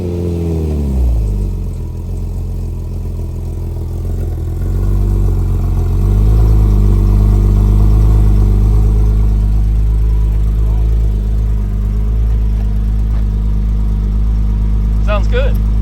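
A Porsche GT4 Clubsport race car engine cold-starts on a dyno, cranking and catching with a sudden roar, then settling into a loud, deep, rumbling idle that rises in revs midway and holds strong.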